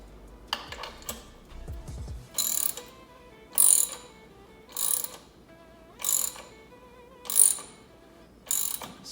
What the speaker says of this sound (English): Just snug it up with a ratchet so I can get a better feel for how much force we've got clamping on this.